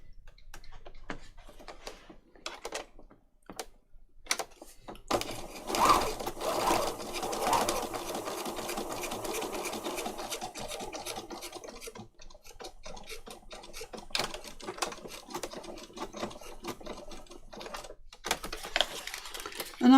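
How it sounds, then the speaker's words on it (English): A sewing machine runs a straight stitch through paper patchwork, with a fast, even mechanical ticking and whirring in close bursts, stopping and restarting several times. "I'm going to stitch it with straight stitch."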